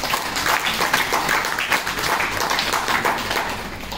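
An audience at a business plan presentation claps loudly and steadily for a few seconds, a dense unbroken burst of applause with no talk over it.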